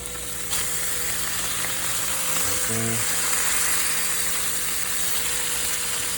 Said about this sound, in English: Got this thing sizzling in there, smelling good